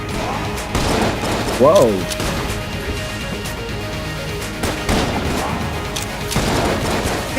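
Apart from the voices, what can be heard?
gunfire from an overpowered gun in video game Enter the Gungeon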